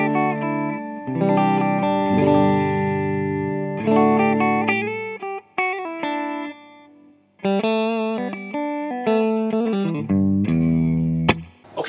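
An electric guitar plays clean chords and single notes through a Clinch FX EP-Pre preamp with a touch of spring reverb, strummed phrases separated by brief pauses, no voices.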